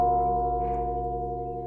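A bell rings in Untitled Goose Game, one steady sustained tone with layered harmonics that holds and slowly fades across the moment, clear and alone with no talk.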